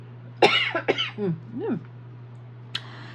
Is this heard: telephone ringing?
no